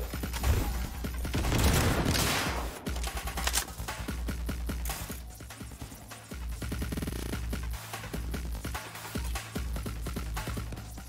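Dense gunfire in Cyberpunk 2077 combat, fast crackling volleys and heavy low impacts overlapping in a continuous loud barrage with brief lulls, close up and busy throughout.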